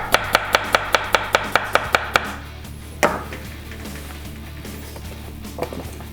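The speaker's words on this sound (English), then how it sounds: "we're going to split the cucumber like this" Rapid knife chops on a cutting board as a seedless cucumber is split, about ten crisp evenly spaced strikes in a quick run, then a lone louder knock and a faint later tap.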